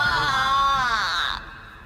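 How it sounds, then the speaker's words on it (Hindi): A loud, drawn-out wailing scream of fright, used as a horror-story sound effect in a village scene as a coffin bursts open, rising and wavering before cutting off abruptly near the end. "ये चीख किसी अनहोनी की संकेत थी"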